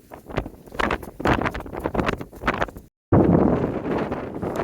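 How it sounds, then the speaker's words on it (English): Strong wind buffets the microphone on a snowy mountain peak, gusting in loud bursts, cutting out briefly, then returning as a heavy, steady roar. "With this wind, with my short activation, pretty breezy down here."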